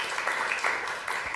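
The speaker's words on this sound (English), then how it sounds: "So one more round of applause" An audience at a creative writing conversation on disability gives a brief, steady burst of applause at moderate volume.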